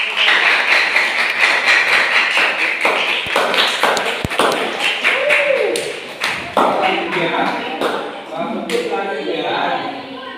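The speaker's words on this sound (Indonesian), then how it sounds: "Tepuk tangan untuk kelompok" Students in a classroom clap for a group that has just presented, a dense burst of close hand claps that thins into scattered taps, with voices speaking over it toward the end.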